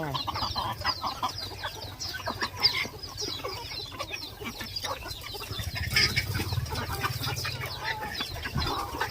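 White-eared ornamental chickens cluck and chatter in a backyard pen, several birds calling over one another at close range with a brief flutter of wings.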